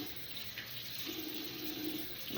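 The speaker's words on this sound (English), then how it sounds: "I'm gonna suds up my soap." Water runs steadily from a tap while a bar of soap is lathered, a faint continuous hiss with no voices.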